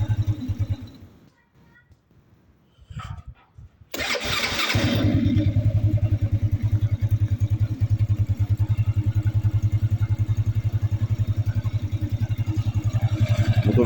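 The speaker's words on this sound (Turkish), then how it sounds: "soğuk olduğu için cikeyi çekmeden çalıştırdım. Motor bayağı soğuk." A cold Brava motorcycle, unused for three weeks, is started without the choke. After a short quiet stretch and a few faint sounds, the engine catches abruptly and settles into a loud, steady, rapidly pulsing idle close by.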